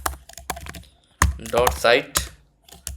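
Computer keyboard keys clatter in short bursts of quick taps, mixed with someone speaking in Hindi over and between the typing.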